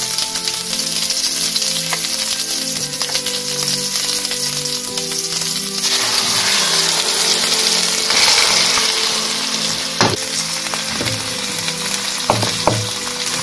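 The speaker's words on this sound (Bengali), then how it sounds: "আমি এখন এগুলো একটু ফ্রাই করব" Beef pieces frying in hot oil with salt and a spoonful of ginger paste for chilli beef, a loud, steady close sizzle, with stirring scrapes and a few sharp knocks of the spoon near the end.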